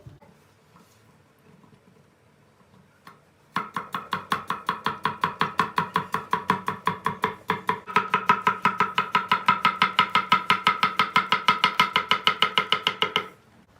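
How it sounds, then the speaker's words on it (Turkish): A knife chops zucchini on a board in quick, even strokes, dozens of sharp taps in a steady rhythm, close and clear, after a quiet start. "İşe kabaklarımızı doğrayarak başlayacağız."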